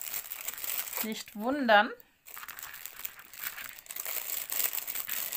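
A plastic bag crinkles continuously as paint-by-numbers paint pots are packed into it, a close rustling that runs throughout, with a short spoken phrase near the start.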